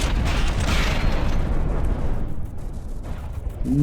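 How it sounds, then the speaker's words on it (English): Cram cannons fire in the naval combat game From the Depths, a dense rumble of heavy booming blasts and mechanical clatter that thins out toward the end. "Those cram cannons are numerous, but they're not tremendously powerful individually."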